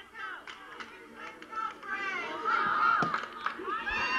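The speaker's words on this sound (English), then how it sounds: "And you hear the cheerleaders cheering on El Cajon." Youth cheerleaders chant and clap at a junior pee wee football game, a busy crowd of young voices with rhythmic claps rising and falling at a moderate distance.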